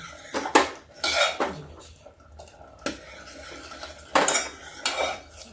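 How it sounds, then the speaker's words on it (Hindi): A spoon scrapes and clanks around a metal pot as bajra flour is stirred into urad dal, loud and close in irregular bursts with brief quiet gaps between them. "सब पूरा ऐसे करके और चलाते रहेंगे जिससे गांठ नहीं पड़े"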